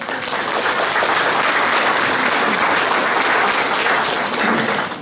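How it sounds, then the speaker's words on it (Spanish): An audience at a Women's Day event in Vilcabamba claps loudly and steadily throughout, a dense, even wash of applause with no break. "Recibamos con fuertes aplausos."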